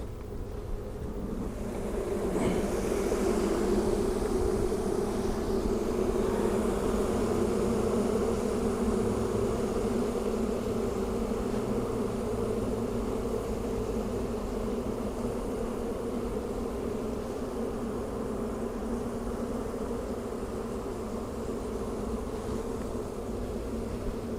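Dense, steady buzzing of many honeybees swarming up from an opened hive, a continuous loud drone holding throughout with no talk.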